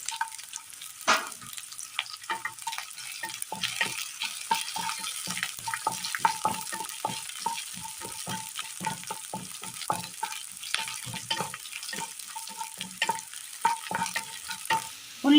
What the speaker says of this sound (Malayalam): ഇതിലേക്ക് വറ്റൽമുളക് ഇട്ട് കൊടുക്കാം.